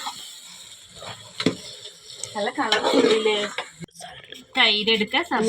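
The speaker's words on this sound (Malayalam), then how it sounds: "അതിൽ കറിവേപ്പില ഇട്ടു ഇത് നന്നായി ഇളക്കി" A spoon scrapes and stirs through biryani with curry leaves in a metal pot, with clinking strokes and a faint sizzle, while people talk nearby.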